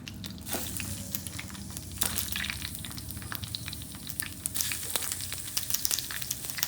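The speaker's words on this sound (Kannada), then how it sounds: "ಫಸ್ಟು ಫ್ರೈ ಮಾಡಬೇಕಾದ್ರೆ ಈರುಳ್ಳಿ, ಹಸಿಮೆಣ್ಸಿನ್ಕಾಯಿ, ಶುಂಠಿ, ಬೆಳ್ಳುಳ್ಳಿ ಇಷ್ಟು ಹಾಕ್ಬೇಕಷ್ಟೆ" Onion, green chilli, ginger and garlic fry in hot oil with a steady, close sizzle and scattered crackles and pops throughout, with no talking.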